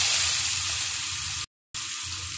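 Red amaranth greens frying in a pan with onion, a loud dense hiss of sizzling that runs steadily, cuts out briefly, then resumes just as strong.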